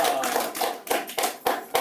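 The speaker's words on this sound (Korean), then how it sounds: "박수 한번 주시죠." A lecture audience claps during a talk on water, with a handful of sharp, distinct hand claps in a loose, uneven rhythm, close and fairly loud, and no speech over it.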